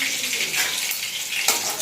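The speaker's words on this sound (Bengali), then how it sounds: "তেল গরম হয়ে গেছে তেলের মধ্যে গরম হিসাবে কালো জিরে দিয়ে দিলাম" Black cumin seeds frying in hot oil for a Bengali village-style fish curry, a steady close hiss and crackle of sizzling that runs throughout, with a brief louder spatter near the end.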